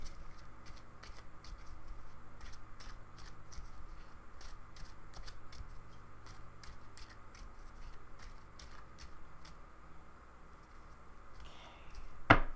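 Tarot cards from a gold deck being shuffled and laid down, a steady run of soft riffling taps and flicks close by with a louder rustle near the end, no talking.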